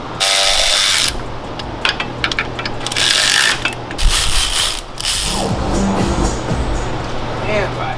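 A ratchet tightens Loctite-coated transmission bolts on a manual-swapped Hellcat Charger, with bursts of rapid clicking ratcheting in close, loud stretches separated by short pauses, while someone talks over parts of it.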